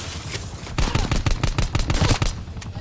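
Rapid bursts of gunfire in Call of Duty: Black Ops Cold War, a dense volley of loud, closely spaced shots that continue almost without a break after a short lead-in.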